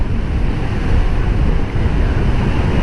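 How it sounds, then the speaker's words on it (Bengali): Waterfall in full flow after heavy rain, a loud, steady, close rushing roar of water with wind buffeting the microphone, unbroken for the whole stretch. "তো এই সেই কাঙ্ক্ষিত ঝর্ণাটি, চলেন আপনাদের দেখাই। আজকে প্রচুর পরিমাণ পানি"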